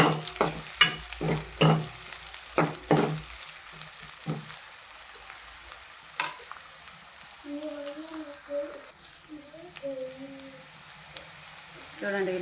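Sliced onions with turmeric fry in a pan, with a sharp string of spoon knocks and scrapes from stirring at first, then a quieter continuous sizzle, and a voice humming or talking softly toward the end.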